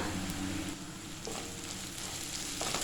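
Onions and curry leaves sautéing in a pan for a fried onion chicken roast, a soft, steady low sizzle with a few faint stirring touches, quiet and unbroken, no voices.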